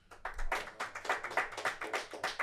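Studio audience clapping at a French sports quiz show, a short, fairly faint patter of hand claps in an uneven rhythm with no voices over it.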